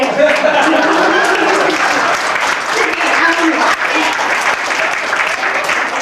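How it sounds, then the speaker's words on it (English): Continuous applause from an audience at a 50th wedding anniversary party fills the room, a dense steady wash of many hands clapping at once, with voices mixed faintly underneath. "yeah, you can clap now"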